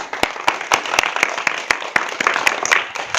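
Clapping from a village crowd in an Awadhi comedy sketch about a politician, sharp uneven claps with a few strong individual hits standing out, moderately close.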